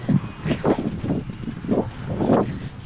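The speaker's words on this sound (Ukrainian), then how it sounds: "Вітер страшний." Strong wind buffets the microphone in gusty, rumbling bursts, loud and close, with no one speaking, as it tears at a loosened tarp on a roof.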